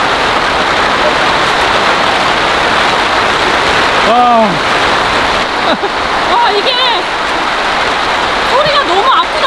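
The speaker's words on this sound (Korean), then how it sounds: "소리가 너무 아프다, 비가." Heavy monsoon rain pours steadily onto a camping tent and tarp, a dense continuous hiss with a few brief whistling sounds; a person speaks over it.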